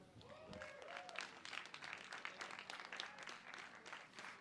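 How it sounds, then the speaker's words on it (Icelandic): Steady applause from a crowd at a classic bench press competition awards, a dense wash of many hands clapping at moderate distance, continuing throughout with faint voices mixed in. "Gefum þeim gott klapp."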